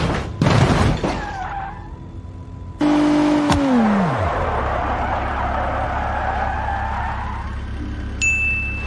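A car brakes hard in the BeamNG.drive driving game: a steady engine drone, then a loud tyre squeal that drops in pitch as the car slows and stops. A short chime follows near the end.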